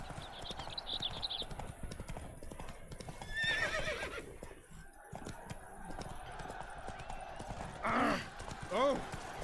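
Horse hooves clip-clopping in Witcher 3 as the horse Roach moves, with whinnies and neighs standing out near the middle and end, all under a steady bed of game ambience and voices.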